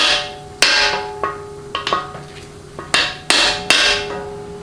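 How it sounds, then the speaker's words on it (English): A bushing driver is hammered into a 4L80E transmission case during a recalibration kit install: about eight sharp metallic strikes at irregular intervals, each ringing briefly, loud and close. "now get the bushing driver on it and then start smacking it home"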